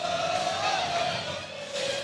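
A big crowd fills the Eagles' Nest gym at a men's basketball game between the Eastern Eagles and Valley Indians, a steady, loud roar of cheering voices with a faint shouted tone rising through it.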